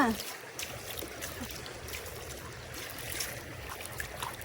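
A river near a waterfall rushes steadily in a continuous broadband wash, fairly faint and unbroken, with occasional voices talking over the flow.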